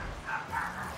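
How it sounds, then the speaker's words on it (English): Dogs bark and yip in short bursts, fairly loud and close, over a steady background of game and room noise. "And the dogs are barking."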